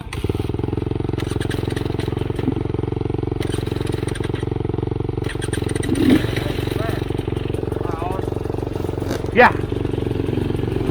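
A 2021 GasGas EC 300 dirt bike engine runs steadily and close by during a group trail ride, with a slight rise in revs near the end and a brief spoken word over it.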